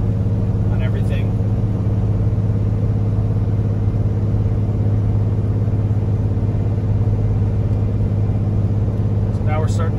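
A super C motorhome labouring up Wolf Creek Pass in Colorado, its engine a steady low drone and rumble that holds without letup throughout, with faint road noise and no clear change in pitch.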